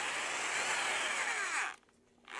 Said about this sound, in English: It has to be tight in my drill first.